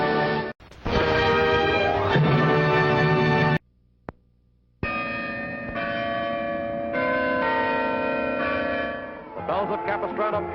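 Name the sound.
Bells of Capistrano church bells pealing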